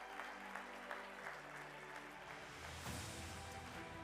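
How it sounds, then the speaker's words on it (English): A hall audience at a national parks awards ceremony applauds the panel of adjudicators with sustained, even clapping. A low hum sits beneath it, and the applause swells slightly toward the end. "A big round of applause for our panel of adjudicators"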